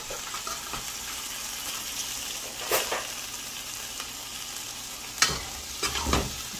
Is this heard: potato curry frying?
yes